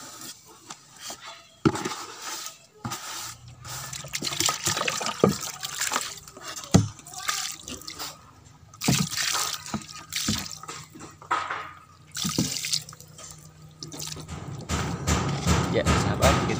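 Diluted chemical liquid fertilizer being poured into a container, with irregular splashing, dripping and a few thumps over about sixteen seconds, ending in a steadier pour.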